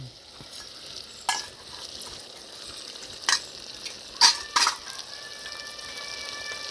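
Ginger and garlic being sautéed and stirred in a pan at an outdoor village picnic: a steady soft sizzle with a few sharp scraping clacks of the spatula.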